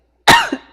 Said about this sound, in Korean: 뭐만 잘못하면 기침이 엄청